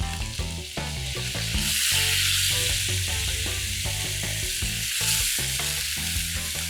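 Chopped onions sizzling in butter and oil in a hot pan, a loud steady hiss with crackling that swells after the first second and carries on without speech.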